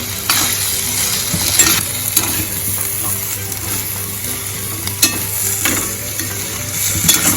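Chutney powder being stirred into dry-fried potato sabzi in a pan, a steady sizzle with scraping spoon strokes recurring every second or two, close and moderately loud throughout.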